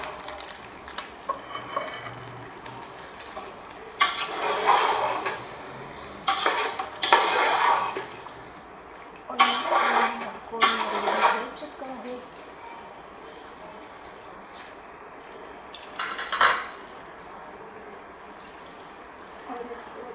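Korma masala being stirred in a pot for chicken qorma, with bursts of scraping and clattering against the metal over a faint background sizzle, and a voice speaking between the strokes.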